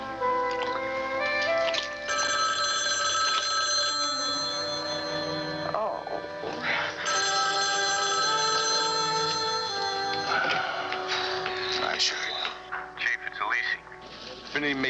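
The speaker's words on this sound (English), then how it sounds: "Your phone hasn't stopped ringing." An old-fashioned telephone bell rings in repeated bursts inside a dramatic scene, sounding together with music and other soundtrack noise and partly masked by them.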